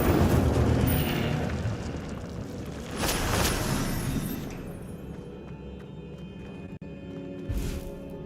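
A burst of fire from the Incendio spell in Hogwarts Legacy, a loud whooshing blast with a booming peak, then a fading crackle and a softer flare near the end.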